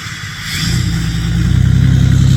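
A loud Dodge Charger Hellcat Redeye Wide Body engine revs up, its deep growl building and intensifying over a couple of seconds, with no talking.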